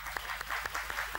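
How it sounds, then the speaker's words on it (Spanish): A television game show studio audience applauds a contestant, a brief burst of many hands clapping, moderately loud and continuous. "Y un aplauso para don Carlos Criado Pérez Guzmán"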